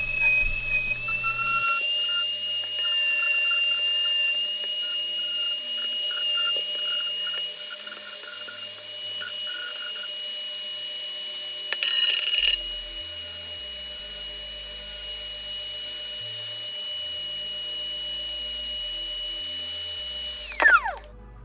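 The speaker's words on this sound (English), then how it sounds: "I'm now going to use this grinder to fix all the problems that knife made." Power grinder smoothing rough knife-saw cut edges on a DIY cat water fountain, a steady high whine running continuously at close range with slight pitch shifts and a brief louder burst near the end, no talking.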